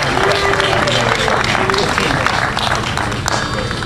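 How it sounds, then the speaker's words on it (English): At a live concert by a tribute band, an audience calls out a long drawn-out name in a sustained low chant mixed with clapping and crowd noise, loud and continuous. "They're not booing, they're saying Lou."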